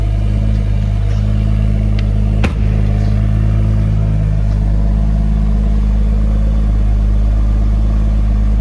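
A BMW M140i Shadow Edition's straight-six engine runs loud and close with a deep, steady throaty drone. The note holds fairly constant, with a brief click about midway and no voices.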